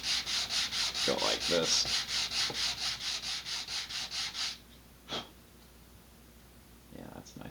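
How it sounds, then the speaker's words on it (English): Sandpaper rubs rhythmically back and forth on a laser-cut wooden part of an Estes BOSS model rocket, with about a dozen close, loud gritty strokes, then a pause with a soft knock while a person speaks briefly. "I'm just going to get a nice big piece of sandpaper and"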